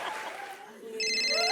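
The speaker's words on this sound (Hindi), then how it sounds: "अब मेरा फोन आ गया।" A phone rings with a bright electronic tone that starts partway through and holds steady, following a brief stretch of voices.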